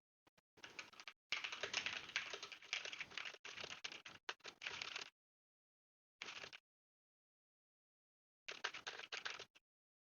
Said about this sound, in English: I usually test my typing with the monkey type